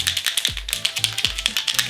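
A L'Oreal Infallible Fixing Mist setting spray bottle is shaken hard in a steady rapid rhythm, its mixing ball rattling close by with repeated sharp clicks and thumps.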